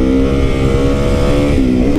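A Yamaha VMAX motorcycle engine runs loud and steady while being ridden, a dense harmonic drone holding throughout with a brief pitch dip and rise near the end, with no talking.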